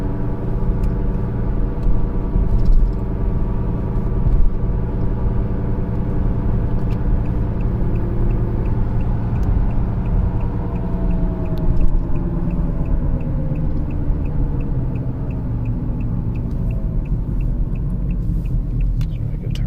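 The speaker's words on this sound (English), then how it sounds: "that wheel bearing does not sound good" Worn wheel bearing on a 2015 Kia Sorento 2.4 while driving, a loud steady low rumbling drone inside the cabin, with droning tones that rise and fall gradually as speed changes.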